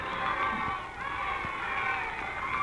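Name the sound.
crowd noise in radio drama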